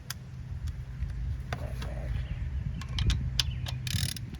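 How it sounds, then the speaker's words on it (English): Ratchet tightening bolts while fitting a fuel pressure sensor on a 2015 Buick Verano, with short scattered clicks and metallic taps over a steady low hum, fairly close and moderately loud. "now we gotta tighten up our nuts here"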